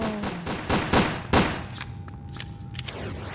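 Gunfire in the video game Resident Evil: Dead Aim: a quick burst of sharp, loud shots in an uneven rhythm, followed by fainter scattered shots and clicks.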